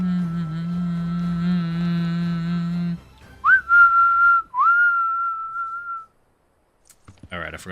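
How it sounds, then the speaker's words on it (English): A person whistles a few clear, sliding notes after a steady electronic hum cuts out, then brief quiet. "I forgot my whistling is probably pretty loud."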